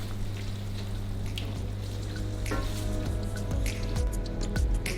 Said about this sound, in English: Now he's gonna stir.